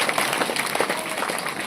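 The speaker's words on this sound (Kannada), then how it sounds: "ಜೋರಾದ ಚಪ್ಪಾಳೆಯಿಂದ" Loud, steady applause from an audience at a devotional gathering honouring a spiritual discourse speaker, dense clapping sustained throughout without a break.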